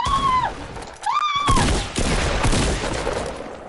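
A tactical shotgun in a Fortnite battle royale match booms twice, loud and close, among dense game noise and gliding electronic tones.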